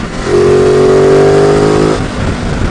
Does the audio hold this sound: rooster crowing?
no